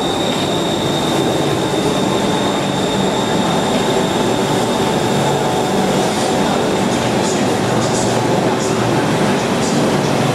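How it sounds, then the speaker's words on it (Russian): Loud, continuous rumble of a Bangkok metro train in motion heard from inside the carriage, with steady wheel roar and faint high squealing tones throughout. "Наша электричка в метро."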